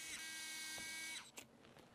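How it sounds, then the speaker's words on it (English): A high-pitched surgical drill whirs steadily for about a second while drilling for compression screws of a bone plate, then spins down and stops, followed by a couple of faint clicks; close and fairly quiet. "We will then drill for our compression screws."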